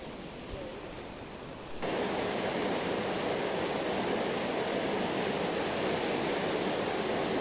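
River water flowing at Boscastle harbour in Cornwall, a dense broadband rush that starts quieter and jumps to a louder, steady roar partway through, continuing evenly without pause.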